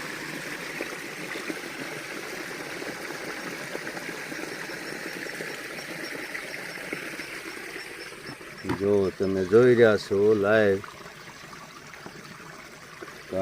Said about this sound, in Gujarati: જો આ રીતે જીવામૃત આપીશું આ જીવામૃતની ટાંકીમાં આપણે ઉમેરી દઈશું